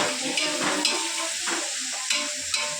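Basmati rice being stirred and fried in oil in a pot for a home-cooked veg biryani, with a steady close sizzle and periodic scraping strokes of the spoon, no talking.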